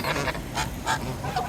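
Geese honk near the shore, three or four quick close nasal honks packed into a second and a half.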